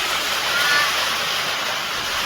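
Heavy rain pours down outside at Pedakwadi fort, a dense, even roar of falling water that holds steady throughout and carries no distinct individual drops.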